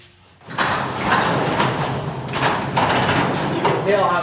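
A garage door fitted with newly replaced rollers slides open after a quiet start, rolling with a steady rumble and a few soft thumps and clacks, close and fairly loud.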